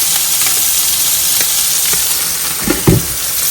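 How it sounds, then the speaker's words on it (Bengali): Fish, including pabda, sizzles loudly in a pan in a home kitchen, with a steady frying hiss and a couple of soft clunks of stirring near the end. "মাছ আর পাবদা মাছ একসাথে ফ্রাই করতেছি"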